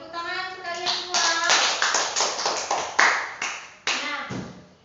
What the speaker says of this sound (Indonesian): Tepuk tangan sekalian semua.